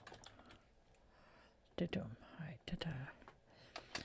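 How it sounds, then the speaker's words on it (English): A package wrapper crinkled right beside the microphone makes crisp, crackling rustles in bursts. The bursts are loudest near the middle and come in close over soft background sounds. "He's crinkling package wrapper in my ear."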